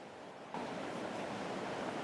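River water flows past a wet, grassy bank in late June, a steady broadband rush that jumps louder after a brief moment and then holds constant, with no talking.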